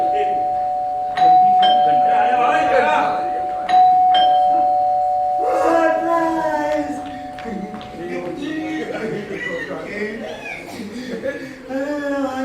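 A doorbell rings during a live Hindi comedy stage play in Jaipur, a few bright chime tones cutting through the performance, with actors talking and an audience chuckling around it.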